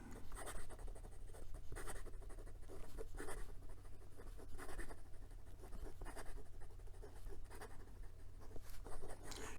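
A Moonman Q1 fountain pen with a fine nib writing quickly on paper, continuous scratchy strokes with rhythmic bursts as lines are drawn, close and alone with no voice.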